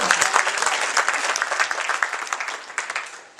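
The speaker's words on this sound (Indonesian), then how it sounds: "Tepuk tangan dulu buat Tuhan." A church congregation at a Sunday service bursts into dense, lively applause, many hands clapping together continuously and fairly close, slowly thinning toward the end.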